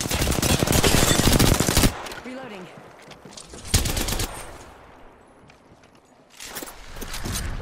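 Rapid automatic gunfire in Apex Legends opens loud and dense, fades under quieter movement and talk, then returns in another burst near the end.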